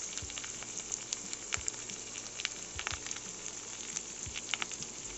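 Chili and turmeric spice paste with onion paste fries in oil, a steady close sizzle broken by frequent small pops and spatters, with occasional stirring scrapes and no speech.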